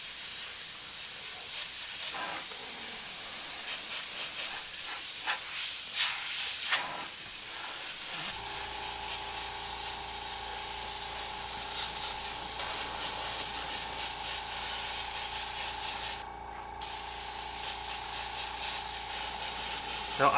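Pocket Graphics airbrush spraying paint freehand, a loud continuous hiss with a brief dip near the end, and a voice talking over it in the first few seconds.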